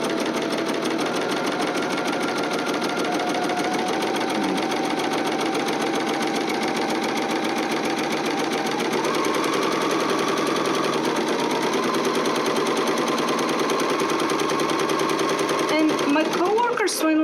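A sewing machine runs in a fast, steady chatter while stitching vinyl on a project bag, pausing briefly mid-seam, with someone talking over it throughout.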